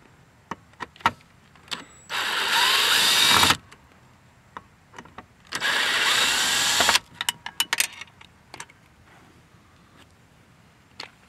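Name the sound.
removing T30 Torx screws with a power tool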